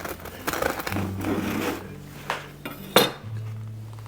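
A knife sawing through a crusty homemade baguette, close scratchy crackling strokes as the crust gives, followed by a brief clink of the blade against a board, with no talk.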